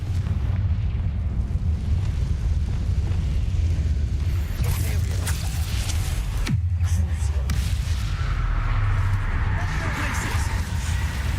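The Confringo spell in the Hogwarts Legacy video game sets off a fiery blast that bursts into a loud, rumbling roar over a dense wash of game noise, with talk mixed in.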